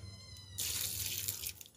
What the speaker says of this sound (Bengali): তাতে আমি জল দিচ্ছি।